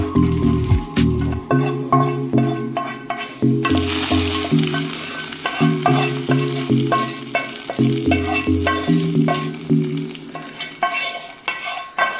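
Mustard seeds, fenugreek, shallots and curry leaves fry in hot oil for a Kerala kalan curry, with a loud close sizzle and crackle broken by repeated rhythmic stirring scrapes.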